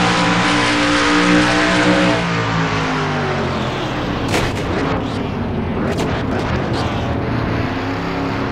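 Race cars wreck in a Cars video game at Darlington, a loud engine roar followed by a burst of crunching impacts and scattered bangs.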